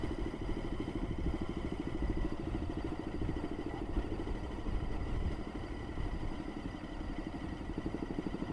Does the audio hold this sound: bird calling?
no